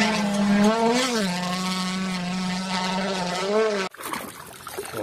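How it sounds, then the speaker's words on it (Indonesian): A toy race car gives a steady, nasal whining drone with a gliding pitch for about four seconds, loud and close, then cuts off and leaves brief handling noise. "Wow, ini mobil balap."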